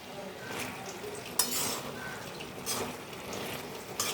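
Water spinach (kolmi sag) cooks in a pan and is stirred, giving a soft watery simmer with occasional spoon scrapes and clinks against the pan, close and fairly quiet, no talk.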